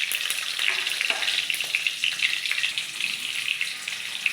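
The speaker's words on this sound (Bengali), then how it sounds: "তেলে দিয়ে দেব দুটো শুকনো লঙ্কা, দুটো" Two dried red chillies and two bay leaves hit hot oil, giving a close, bright sizzle and crackle with brief spatters, steady from start to finish.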